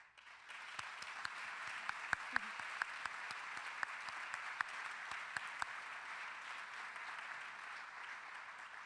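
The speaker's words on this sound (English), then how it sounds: "if we could please give her a round of applause" An audience at an interior design association's annual meeting applauds an award winner, a steady crowd clapping heard from a distance, with a few sharper individual claps standing out.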